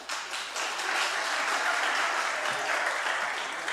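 A church congregation applauds together at a Friday evening service, a steady, dense clapping that holds at an even level for several seconds with no talk over it.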